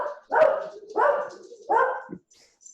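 A dog barks three times in an even rhythm, moderately close and clear, with quiet gaps between barks and no talking.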